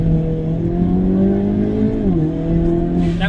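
A Hyundai Kona N launches hard in N mode, its engine droning loud and close as the pitch climbs steadily, dips briefly at a gear change, then rises again.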